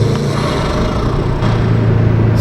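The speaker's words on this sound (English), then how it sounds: "I've got the GoPro in the engine bay, which is the noise we'll be hearing over my voice as well" Subaru WRX engine idling steadily, heard up close from inside the engine bay as a loud, continuous low rumble with a constant hum that stays even throughout.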